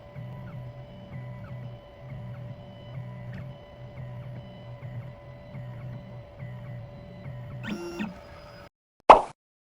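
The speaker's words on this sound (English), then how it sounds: "The machine is decoding the key." An automatic key-cutting machine decodes an original car key held in its clamp, giving a steady mechanical whir with rhythmic low pulsing motor sounds, then a brief rising whine and a sharp click near the end.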